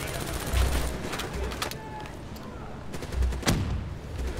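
Heavy gunfire in Call of Duty: Black Ops III, with bursts of automatic fire and sharp cracks rattling at mid distance over a constant battle din, swelling twice and easing between.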